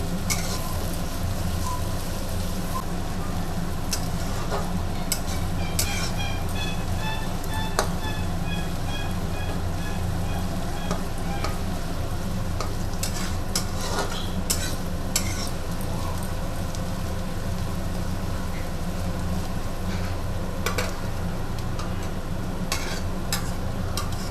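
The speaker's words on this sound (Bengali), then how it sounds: "বেরেস্তাটা অল্প আঁচে ভাজতে হবে।" Sliced onions for birista fry slowly on low heat for chicken biryani, a steady, even sizzle and bubbling hiss continuing throughout, with occasional faint clicks and stirring touches.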